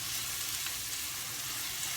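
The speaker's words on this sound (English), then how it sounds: "Give that a stir." Onions and bacon sizzle steadily in a hot pan on high heat, a constant bright frying hiss with soft low stirring scrapes underneath, close and continuous with no talking.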